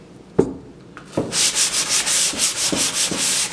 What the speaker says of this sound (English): What I do is I kind of sand off any glue that I have. So I'm going to just give it a simple sand here.